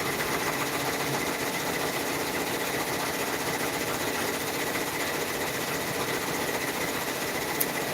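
A sewing machine hums steadily and continuously for the whole stretch at close range, a constant mechanical whir with no pauses and no talk over it.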